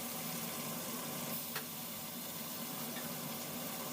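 Bata fish sizzle steadily as they fry in oil in a pan, a continuous close hiss with no talking over it.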